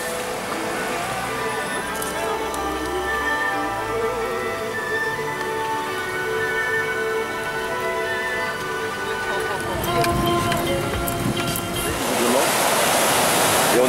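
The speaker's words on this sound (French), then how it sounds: "Et on traverse la rivière des Pères, qui visiblement a déjà débordé." The flooded Rivière des Pères near Le Prêcheur rushing in a steady, loud roar of water heard while crossing it by vehicle, with someone talking over the continuous torrent.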